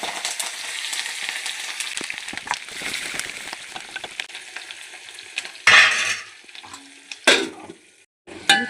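Onions and green chillies sizzling in oil while a spoon scrapes and stirs the pan, steady frying with louder clattering bursts of stirring near the end and brief pauses.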